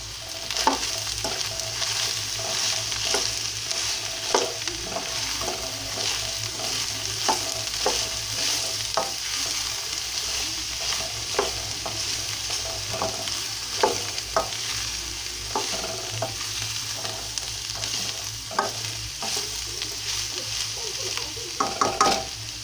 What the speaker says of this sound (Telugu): సొరకాయ ముక్కలు ఇలా కట్ చేశానండి, అవి వేస్తున్నాను నేను.